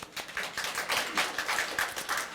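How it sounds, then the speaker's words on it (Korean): A small audience at a G major pentatonic trumpet lesson claps in brief, uneven bursts, the taps fairly faint and close with no talking over them. "박수 한번 주십니다"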